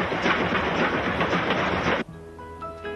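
A passenger train rolls along the rails with a loud, steady rumble and rhythmic clatter for about two seconds, then cuts off abruptly to a quieter tonal background.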